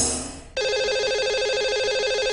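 On a radio call-in show, a phone line to a lucky caller rings with an electronic warbling tone, loud and steady, after a brief burst of other sound that cuts away.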